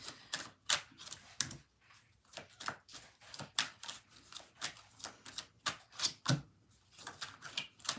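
Tarot cards for a reading shuffled and smacked in a rapid, uneven run of crisp close clicks and slaps that continues steadily throughout, with no talking.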